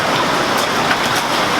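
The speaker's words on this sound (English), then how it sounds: "Got a waterfall." A waterfall inside a cave, a dense, close, steady splashing roar of falling water with no voices.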